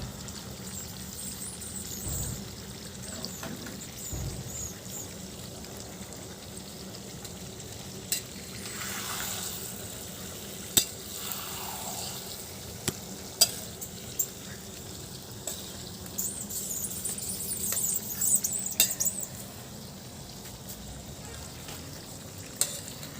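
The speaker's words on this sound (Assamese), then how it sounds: "ভালকৈ হালধি নিমখখিনি লগ হৈ যোৱাকৈ লাৰি দিলোঁ অলপ।" Salt and turmeric are stirred in a frying pan, giving a soft, steady sizzle with scattered scraping clicks of the spoon, fairly quiet and close, with no talking over it.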